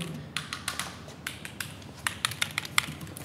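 Keys clatter on a computer keyboard in a PC showroom, a run of quick, fairly close taps with a few sharper strokes and no talk over them.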